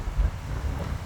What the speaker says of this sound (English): wow, it's windy here